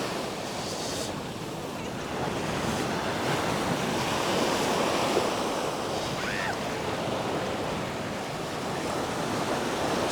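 Surf breaking on Thomas Beach in Bali, a steady, broad wash of waves with wind buffeting the microphone, continuous and fairly loud throughout.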